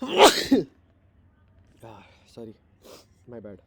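A single loud, close sneeze from a teacher during a biology lecture, followed by a short pause and then someone speaking briefly.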